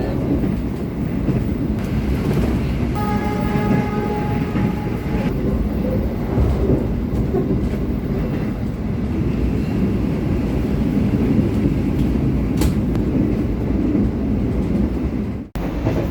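Parahyangan luxury-class train running after leaving Cikampek station: a steady, loud rumble of wheels and carriage noise fills the whole stretch, with faint tonal squeals early on and a brief dropout near the end.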